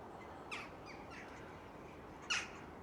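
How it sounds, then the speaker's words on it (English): Young crows caw twice from a distance, thin and faint above a steady outdoor background hiss. The call at the end is a little stronger. "Some young crows here as well."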